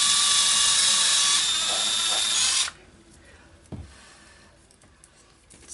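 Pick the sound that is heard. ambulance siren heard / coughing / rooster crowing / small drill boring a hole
small drill boring a hole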